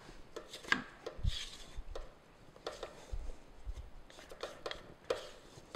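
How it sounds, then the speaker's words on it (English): Chocolate crinkle cookie dough gets stirred by hand in a bowl, a spoon scraping and thudding through soft dough in repeated irregular strokes, close and fairly quiet with no talking. "just going to give this a quick stir to make sure all that flour is mixed in"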